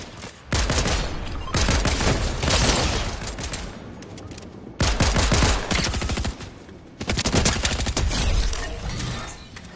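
Fortnite gunfire in heavy bursts: rapid automatic volleys rattle in three long loud stretches separated by brief pauses, close and dominant.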